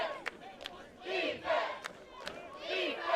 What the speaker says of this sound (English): Well, Mustang crowd getting fired up here.